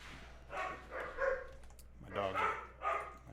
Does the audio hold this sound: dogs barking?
yes